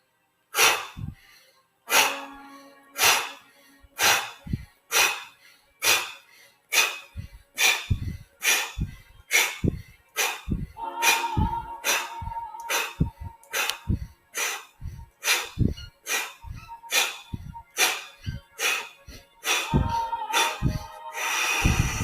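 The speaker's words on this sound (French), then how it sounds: "Et quand vous expirez, expirez un peu rapidement et on inspire." Quick, forceful breaths in a guided breathing exercise, about two dozen sharp exhalations and inhalations in a steady rhythm, close and fairly loud, with no talking.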